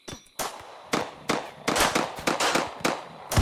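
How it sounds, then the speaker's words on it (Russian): Several sharp blasts and cracking bangs from a RimWorld battle in which a grenade is thrown, coming in a rapid uneven string, loud and close, with a faint voice early on. "Кто, блядь, гранату кинул?"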